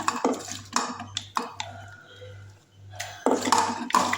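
Spoonfuls of masala clink and scrape against a metal cooking pot during preparation of a fish curry, with several sharp taps and stirring scrapes in an uneven rhythm over a low steady hum.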